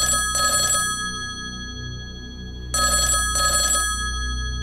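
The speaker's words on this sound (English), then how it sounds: "the house phone started ringing" A house telephone rings in two bright, electronic bursts separated by a pause of about two seconds, loud and close, with a low steady hum underneath and no voices.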